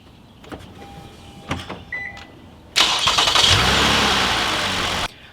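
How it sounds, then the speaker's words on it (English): A car being started during a jump start with jumper cables using the good battery: quiet clicks and brief whirs, then a loud engine catches at about the three-second mark and runs steadily for a couple of seconds before cutting off. "next we'll start the car with the good battery"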